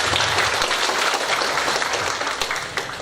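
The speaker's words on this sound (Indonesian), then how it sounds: "Tepuk tangan dulu ya." An audience at an IAIN Lhokseumawe graduation ceremony bursts into dense, sustained applause, loud and close, tapering slightly toward the end.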